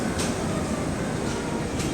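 Steady low rumble of a train in motion at Maputo railway station, Mozambique, a continuous rolling drone with faint clatter, close and fairly loud, no voices.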